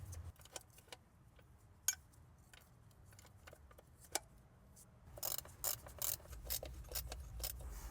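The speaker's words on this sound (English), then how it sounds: "We're gonna tighten that bolt that's very tough to reach." A wrench works on a hard-to-reach valve cover bolt on a Toyota Sienna engine with faint metallic clicks and ratcheting taps, soft and close, growing busier with rattling toward the end.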